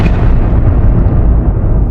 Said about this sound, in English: Then a final explosion.